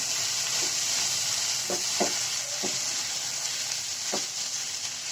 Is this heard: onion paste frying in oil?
yes